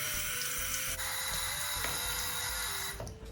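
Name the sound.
rinsing face with cold tap water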